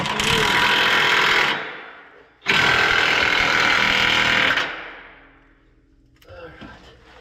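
An impact wrench hammers loudly and continuously in two long bursts on trailer suspension during a shock and king pin repair, each ending in a fading rattle, with faint workshop noise afterward.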